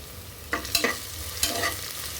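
Onions, grated ginger, dried chili, asafoetida and curry leaves sautéing in a pan for vegetable masala oats, with a steady soft sizzle and a few scraping stirs of a spoon, close and moderately quiet.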